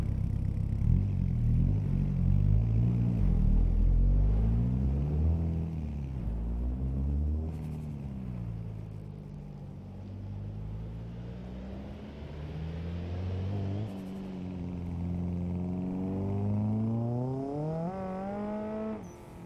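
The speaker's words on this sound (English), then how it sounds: "If you come with me to hear the engine," Engine of a WDTS S15 drift car in Assetto Corsa, revving up and down through repeated rising and falling sweeps, loud and close with a rumbling tone and no talking.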